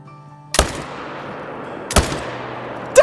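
Three loud, close rifle shots spaced about a second and a half apart while hunting mule deer in Call of the Wild, each a sharp crack with a decaying tail over a quiet background.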